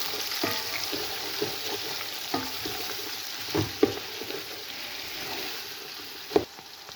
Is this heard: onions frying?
yes